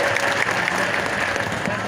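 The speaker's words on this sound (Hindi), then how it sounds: "ताली बजाए तो जरा डट के बजाए" Audience applause at a rural Madhya Pradesh political event welcoming leaders, a dense steady clapping from a crowd lasting the short stretch, with voices mixed faintly underneath.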